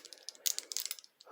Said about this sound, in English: We got a Craftsman single line V USA 1/4 inch ratchet.